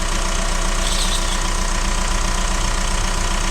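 A Citroën C5 2.0 HDI 16v diesel engine, just fitted with a new turbo, runs on its first start with a steady, loud, close knocking idle that holds unchanged throughout.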